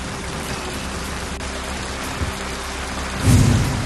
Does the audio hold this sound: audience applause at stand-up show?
no